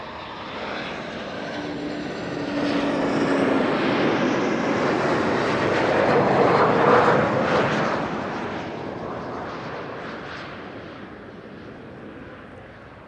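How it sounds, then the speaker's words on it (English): Embraer 190 jet airliner at Amsterdam Schiphol Airport, a broad engine roar that swells steadily to a peak mid-way and then fades slowly as the aircraft passes, with no talk over it. "That is an Embraer 190 short flight."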